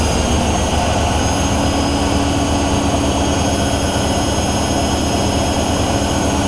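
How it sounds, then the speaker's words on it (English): A Miele W5748 and a Whirlpool AWM 1400 washing machine spin together at top speed, making a loud, steady, roaring whine with constant high-pitched tones and no break. "Right, both are spinning at the max spin speed."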